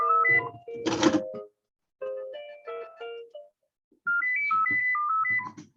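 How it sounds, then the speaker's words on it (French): A landline telephone rings indoors with bursts of electronic melodic tones that stop and start, with one louder clattering burst early on, moderately close. "Excusez-moi, j'ai le téléphone qui sonne, ça c'était pas prévu."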